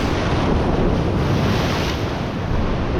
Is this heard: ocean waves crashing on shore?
yes